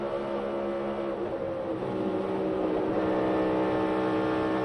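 Race car accelerating back on the gas, a dense continuous engine roar that builds slightly in loudness, heard from trackside with no talk over it.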